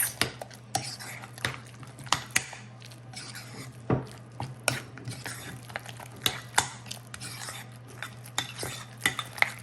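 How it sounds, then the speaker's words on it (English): A utensil mashes and stirs boiled egg yolks in a bowl, clinking and scraping against the sides in quick, irregular strokes, close up with no talking. "So we'll go ahead and mix that up and break up those yolks."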